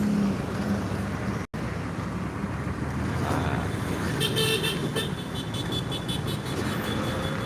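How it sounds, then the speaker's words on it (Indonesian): Dense roadway traffic during a total jam on Jalan Soekarno-Hatta, with a truck carrying piling stuck across the road; a steady loud rumble of idling cars and trucks with a brief dropout, then a few short horn toots near the end. "Macet total."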